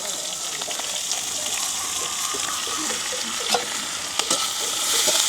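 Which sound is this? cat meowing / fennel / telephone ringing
fennel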